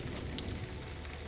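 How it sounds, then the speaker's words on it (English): Rain falls in the fantasy video game Lord of the Rings Online, a dense, even hiss of downpour that holds steady throughout with no voices over it. "I can't see anything this rain"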